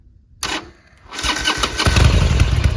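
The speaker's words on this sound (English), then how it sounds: "maybe give it a twist of the throttle." A Harley motorcycle engine cranks and catches with a brief starter whir, then fires up and rises into a loud, rumbling idle as the throttle is twisted, close by and without talk.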